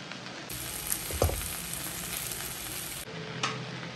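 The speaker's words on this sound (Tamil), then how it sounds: "இப்போ நம்ம பொரிச்சிடலாம்." Oil sizzles steadily in a pan as salt is added to frying food, with a dense crackling hiss that holds throughout and a brief stir or clatter in the middle, no voices.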